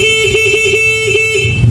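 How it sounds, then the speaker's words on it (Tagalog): The stock horn of a Honda Click V3 scooter sounds continuously and fairly loud, steady and buzzy with a slight pulsing waver, cutting off near the end. "Ito yung stock horn."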